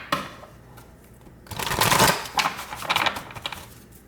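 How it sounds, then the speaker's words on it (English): A deck of tarot cards is shuffled by hand, a quiet start building into a rapid riffling flurry of card edges, followed by a few shorter bursts of cards being pushed together up close. "Let's do one more shuffle."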